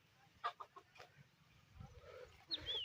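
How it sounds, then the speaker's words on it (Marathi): Farm chickens clucking in short, scattered bursts near a tractor work site, moderately close and fairly faint, with a sharper squawk toward the end and no talking. "बघतो मित्रांनो आमच्या कोंबड्या"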